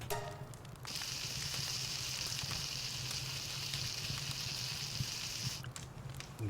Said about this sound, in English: Cooking some eggs